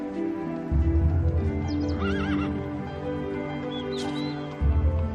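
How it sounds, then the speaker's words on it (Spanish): Horses at an equestrian centre near Oviedo, with loud neighing and whinnying over a steady bed of low snorting and clip-clopping hooves, plus faint higher calls in the background. "Hay muchos caballos aquí"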